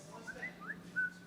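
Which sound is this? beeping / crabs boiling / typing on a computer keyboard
beeping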